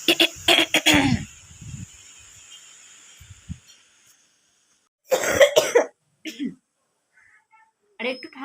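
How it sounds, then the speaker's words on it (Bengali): A person coughs in a short burst of harsh, close coughs, then after a quiet pause coughs again in a few rough bursts, with a faint breathy hum between. "আর একটু ঠান্ডা ওয়েদার পড়লো কি পড়লো না, আমার কাশি শুরু হয়ে গেল"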